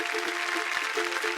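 Studio audience applause on a women's game show, steady clapping throughout with a faint sustained musical tone underneath.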